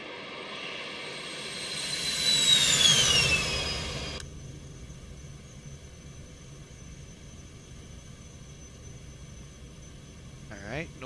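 Citation X jet engines at climb thrust in the X-Plane 12 flight simulator: a loud roar with a descending whine swells for about four seconds, then cuts abruptly to a quiet, steady hum.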